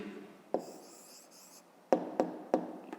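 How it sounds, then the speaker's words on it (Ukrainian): A pen writes an answer by hand on paper for a fifth-grade maths exercise, heard as soft close scratching strokes broken by several sharp taps, quiet and with no speech. "Пишемо тоді відповідь."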